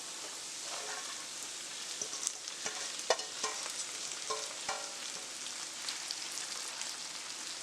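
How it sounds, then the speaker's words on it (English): Jamaican callaloo greens sautéing in a pan, giving a steady close sizzle and hiss of frying with scattered stirring clicks and scrapes from a utensil, no voices. "Let's add our Jamaican callaloo."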